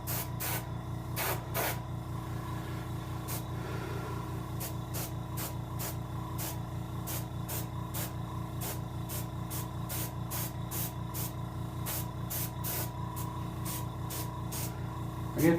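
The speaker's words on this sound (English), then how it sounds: "If you're going to angle spray right now is a good time to do it." Airbrush spray painting a green sunfish taxidermy mount, a steady hissing spray running continuously under a low compressor hum, broken by short bursts of sharper spraying at a fairly regular pace.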